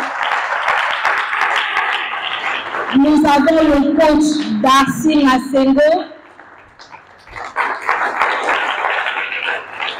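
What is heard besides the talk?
audience applause for panel members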